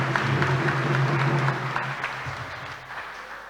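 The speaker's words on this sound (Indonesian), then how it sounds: "Tepuk tangan untuk mereka semua." A congregation claps for the choir members during a church Mass for the Feast of Saint Mary, Mother of God. The applause is dense and sustained over a low hum, thinning slightly toward the end.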